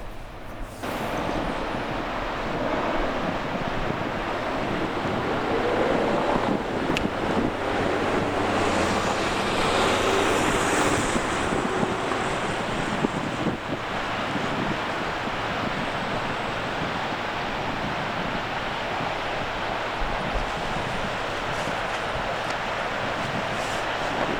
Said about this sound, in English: I'm going to leave a little bit of the audio so that you can hear the surf